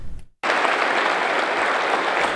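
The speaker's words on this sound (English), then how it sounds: "three civilians are getting a standing ovation" A standing ovation from a room full of police officers at a Crimestoppers breakfast, loud sustained clapping that bursts in suddenly after a brief silence and continues evenly.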